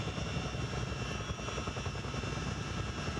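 A CH-47D Chinook helicopter in Microsoft Flight Simulator runs with a steady, loud engine and rotor drone that holds even throughout, with no talking.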